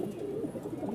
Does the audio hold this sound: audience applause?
no